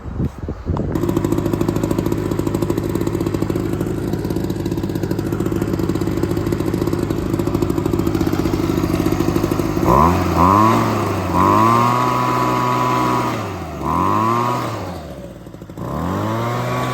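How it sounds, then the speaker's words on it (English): A small two-stroke gas leaf blower engine runs steadily at idle, then revs up and down in several rising and falling bursts, loud and close. "we got the leaf blower running"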